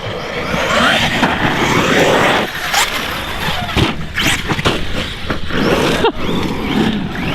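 An ARRMA Nero 6S RC car fitted with a 17-tooth pinion drives hard, its electric motor whining and rising in pitch through repeated accelerations, loud and close, with some rattling and scrabbling in between.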